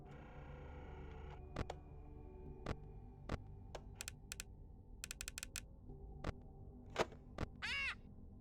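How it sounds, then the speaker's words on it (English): A bird caws a few times, faint and distant, in a quiet horror video game, mixed with scattered clicks and keyboard taps over a low ambient drone. "Oh, hey bird."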